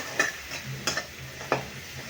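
Turmeric, chilli and salt stirred through onions in a pan for kanda poha, heard as a few soft scraping strokes of a spoon against the pan over a faint low sizzle, with no talking.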